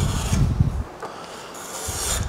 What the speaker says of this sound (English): I'm gonna just get in here and scrape that little lip off.